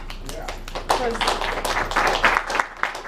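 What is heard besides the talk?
audience clapping for office staff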